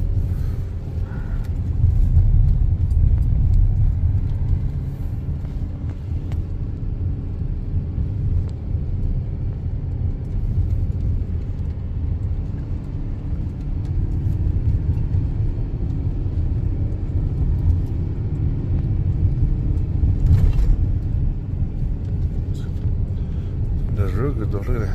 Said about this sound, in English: Press the gas just slightly and the turbo just kicks in.